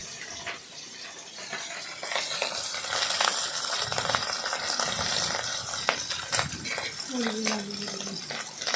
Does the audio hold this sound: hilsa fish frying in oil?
yes